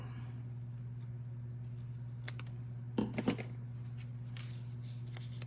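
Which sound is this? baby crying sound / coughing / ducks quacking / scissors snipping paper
scissors snipping paper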